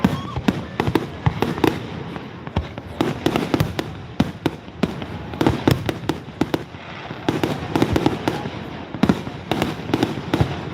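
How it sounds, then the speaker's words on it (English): Fireworks at the Milan Fair burst repeatedly in irregular bursts, sharp cracks and booms echoing one after another at moderate distance. "They put on a really, really good fireworks show here."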